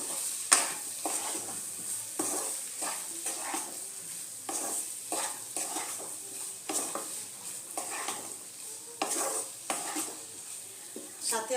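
Fried raw jackfruit and potato being stirred into a cooked spice paste in a pan, with rhythmic scraping strokes of a spoon repeating about once a second over a steady sizzle, close and clear.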